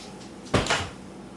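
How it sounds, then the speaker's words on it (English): A door swinging shut in a home kitchen, one short knock-like thud followed by a softer second bump, fairly close and alone against a quiet room. "Can you close the door, please?"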